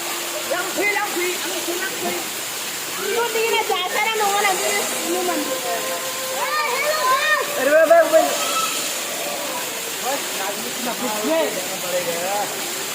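Steady rushing water from the Damodarpur waterfall fills the background, constant and fairly close, while several people talk and call out excitedly over it throughout.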